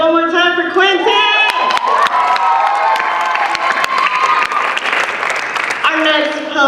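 A showcase audience applauds and cheers a spoken word poet, loud sustained clapping mixed with whoops and shouts over a crowd roar. A voice calls out over it at the beginning and again near the end.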